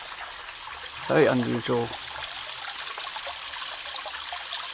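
Water trickling in a small iron-stained, orange stream in a mossy ravine, a soft steady burble throughout, with a person speaking briefly near the start.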